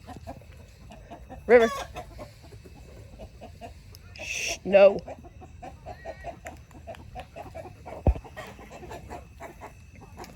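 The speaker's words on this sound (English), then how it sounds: "the chickens are all riled up because of her" Farm chickens cluck and squawk in agitated bursts, riled up by a Karakachan livestock guardian dog. A person briefly speaks and shushes nearby, over a quiet outdoor background.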